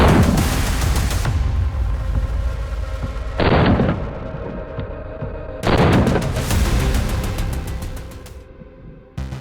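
.40 S&W pistol shots ring out, loud and close, in a few sharp bursts with long rumbling decay between them, at least three separate firing moments across the stretch, no talking.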